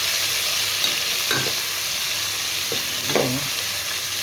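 Onion and tomato frying in a pan for pakbet vegetable stew, a steady close sizzle throughout with a few faint stirring scrapes and no talk.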